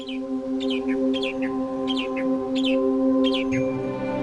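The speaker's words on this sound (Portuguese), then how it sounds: "O sabiá das Bahamas canta melodicamente em galhos altos" A Bahama mockingbird sings from high branches, repeating short bright phrases about every half second over a steady hum of insects or background drone that runs throughout.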